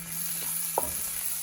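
Cumin seeds, a bay leaf and serrano chilies sizzle softly in hot oil in a pan while a spoon stirs them, with one brief scrape standing out.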